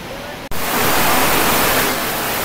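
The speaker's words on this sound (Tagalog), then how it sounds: "ganito kaingay kapag malakas yung ulan, umuulan sa labas" Heavy rain falls outside as a loud, continuous hiss, heard close through a budget wireless mic without noise cancellation, briefly interrupted by a click near the start before the roar resumes.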